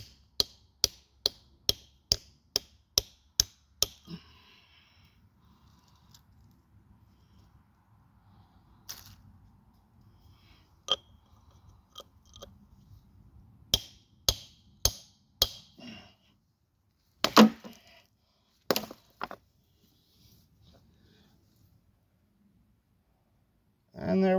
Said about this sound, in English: What I'm doing is chipping all around it, trying to get to the vein itself.